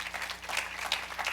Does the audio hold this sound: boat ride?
no